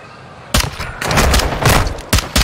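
Bursts of gunfire from the video game Modern Warfare 2 on PS5, a burst starting about half a second in and then heavy sustained shooting. The shots are close and loud, with one more sharp burst near the end and no speech.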